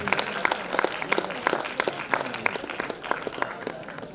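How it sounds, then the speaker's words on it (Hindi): Audience applause in a hall during a formal welcome ceremony, crisp individual claps standing out in uneven bursts over a continuous clapping bed, fairly close and loud. "Huge round of applause."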